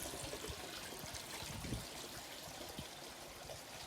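Water flowing from a hose pipe into a DIY three-barrel koi pond filter, a soft, steady trickle and gurgle heard faintly throughout.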